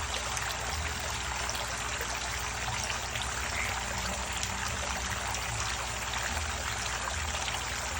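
Steady stream of shower water running over crayfish, a continuous broadband splashing and trickle that holds even and close throughout, with no voices.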